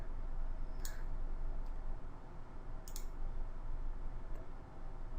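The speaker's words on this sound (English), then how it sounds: "I'm just clicking around here and I found one." A few sharp, quiet computer mouse clicks are spaced apart over a steady background hiss, close by and brief.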